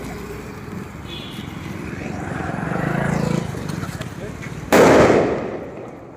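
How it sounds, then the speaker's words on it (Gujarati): A Diwali firecracker goes off at a roadside crossroads as a single loud, sharp burst that then decays. Ambient rumble and murmuring voices come before it. "તો જઈશું આપણે ચોકડી ઉપર ટેટા ફોડવા"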